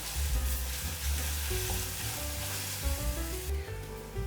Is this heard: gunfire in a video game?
no